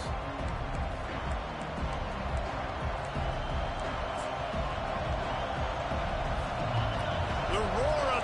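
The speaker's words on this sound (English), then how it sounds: "The roar of the crowd trying to fuel this defense to keep them pinned in their own end." Stadium crowd roaring in the NCAA 25 college football video game as the defense pins the offense deep in its own end, a steady, dense wall of cheering noise that holds level throughout.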